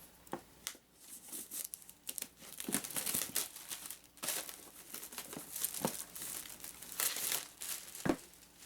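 Crinkling and crumpling of packaging as a Dungeons & Dragons Stranger Things starter set box from Wizards of the Coast is opened, with quiet rustles, tearing and sharp handling bursts scattered throughout.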